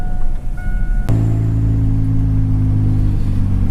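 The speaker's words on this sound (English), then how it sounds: "Your blow-off valve is loud." A turbocharged Honda D16Z6 wagon engine, with a loud blow-off valve, sits close and loud, with a sharp burst at the lift-off followed by a steady low rumbling idle.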